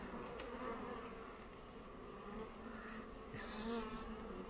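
Steady, dense buzzing of many honeybees close by at an opened hive, a continuous drone with occasional louder passes as individual bees fly near.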